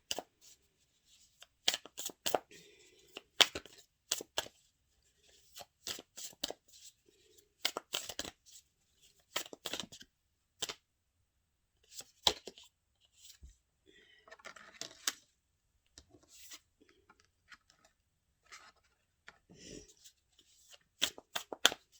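A deck of tarot cards being shuffled and cut on a table in short, crisp riffling bursts and taps separated by pauses, quiet and close, with brief faint talking between.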